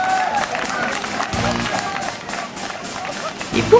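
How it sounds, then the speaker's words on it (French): Outdoor crowd applause at a regional event in Brittany, scattered clapping and cheering of moderate loudness, with voices and an announcer talking over it. "On les applaudit s'il vous plaît."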